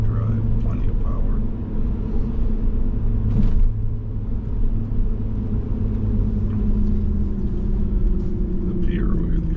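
Steady low engine rumble and road drone inside a BMW 3 Series ZHP while cruising, constant and fairly loud throughout.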